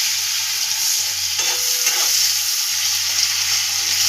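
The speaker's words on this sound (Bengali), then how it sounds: "পেঁয়াজগুলো লাল লাল ভাজা হয়ে গেছে" Onions sizzle steadily in hot oil with bay leaf, dried red chilli, five-spice seeds and garlic for an egg curry, a continuous close frying hiss broken by brief stirring scrapes, with no voices.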